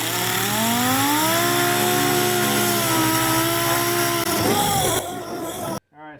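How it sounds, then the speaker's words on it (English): Power sander stripping paint off the hood of a 2008 Ford Fusion, with a loud, close, droning motor whine whose pitch wavers and dips before cutting out near the end. "We've finished sanding the hood and the new, just scuffed up the new fender."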